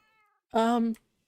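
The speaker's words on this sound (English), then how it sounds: "There's a lot of cats." A single cat meow in the Minecraft video game, a short clear tonal cry, preceded by a faint high tone and followed by silence.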